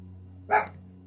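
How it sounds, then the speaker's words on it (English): A single short dog bark sounds from nearby over a steady low electrical hum. "He barks at everything."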